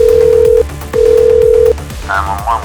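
A telephone line connects as a 911 emergency call goes through, with two loud steady ringback tones separated by a short gap, followed by faint warbling electronic sounds.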